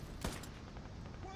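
Brief burst of machine gun fire in a World War II shooter game (Gates of Hell or Hell Let Loose), a short, sharp volley near the start, then quieter rattling battle noise for the rest.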